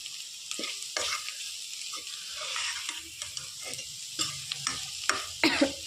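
Grated coconut for lemon rice cooking in a little oil over a low flame, a gentle continuous sizzle with repeated scraping stirs and small clicks of a spoon on the pan, close but quiet.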